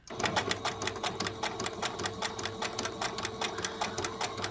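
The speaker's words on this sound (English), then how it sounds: "I'm going to backstitch it, and I'm going to follow around" A sewing machine backstitches fabric on a costume piece, a fast, even clatter of needle strokes with a low motor hum running close and continuous, with no talk.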